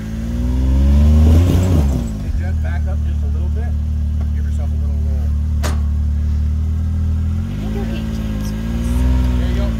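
A Polaris RZR or Can-Am X3 side-by-side UTV revs hard off-road, its loud, close engine surging and then holding a droning throttle, while voices talk and shout over it.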